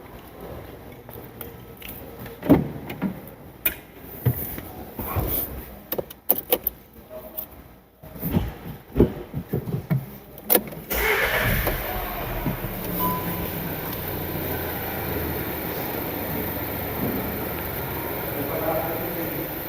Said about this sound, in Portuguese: Vou dar partida no carro, não vou nem ligar a chave, vou dar partida no carro